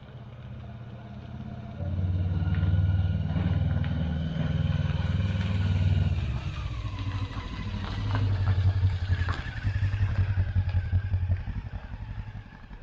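A Honda CB500 motorcycle engine rumbles steadily while riding, exhaust note rising and falling with throttle, with wind noise and some rattling, up close.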